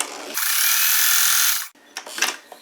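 A sewing machine stitches pink fabric in one fast, steady whirring run of about a second and a half, close and fairly loud, then stops and leaves a few soft handling clicks.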